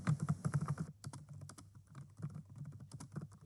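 Rapid, continuous typing on a computer keyboard, a steady patter of close, crisp key clicks with a brief pause near the one-second mark, heard alone without talk.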